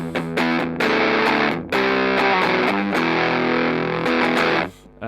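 Electric guitar on the bridge pickup through a Big Muff fuzz, with loud, saturated fuzzy chords struck in short bursts separated by brief pauses, close and up front.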